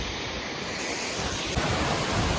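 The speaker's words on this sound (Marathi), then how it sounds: "हा आहे आमच्या गावातला धबधबा सुंदर असा" Steady, loud rushing water of a village waterfall at Khadkona roars continuously, a broad wash of noise like falling water close by, with a slight surge near the end.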